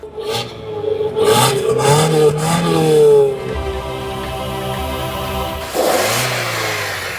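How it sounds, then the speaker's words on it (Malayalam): A Maruti Victoris car engine revs up and settles, rising and falling in pitch through several throttle blips before dropping to a smooth, refined idle hum, then revving again near the end, close and loud, with no talk. "കുറെ കൂടെ നല്ല റിഫൈൻഡ് ആയിട്ടുള്ള എഞ്ചിനാണ് ഇത് കേട്ടോ."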